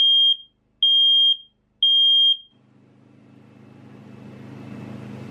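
Nest smoke and carbon monoxide alarm running its smoke test, with three loud piercing beeps evenly spaced, followed by a low swelling hum.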